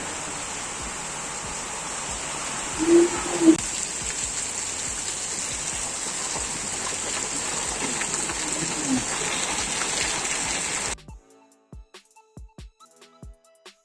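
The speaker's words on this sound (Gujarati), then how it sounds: "જોરદાર પડે વરસાદ મિત્રો" Steady heavy rainfall hisses for about eleven seconds, with a brief voice and small knocks, then cuts abruptly to near silence with scattered taps.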